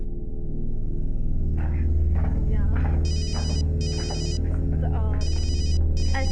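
A telephone rings in repeated short bursts while people talk over a low hum.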